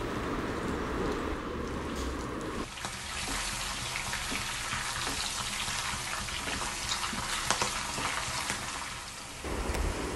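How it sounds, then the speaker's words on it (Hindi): Green chillies frying in hot oil in a pan give off a steady, dense sizzle and crackle for the whole stretch, close and fairly loud, with no talking. "तो इसका कलर चेंज होने तक हम इसको फ्राई करेंगे."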